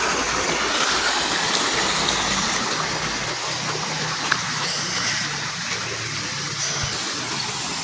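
A creek runs over rocks among plants outdoors, a steady, loud rushing and gurgling of water that continues unbroken throughout.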